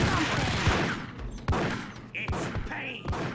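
Gunfire from a shootout in the Max Payne video game, several loud sharp shots in quick succession with thuds between them and short voice snippets.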